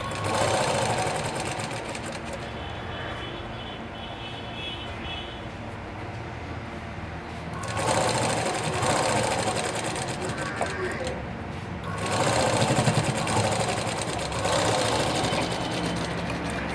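A tailoring sewing machine stitching thin thread piping, a fast steady mechanical whirr that starts and stops in runs, close and loud, with someone talking in Telugu in between.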